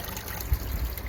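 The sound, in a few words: water trickling in a solar-powered pond water feature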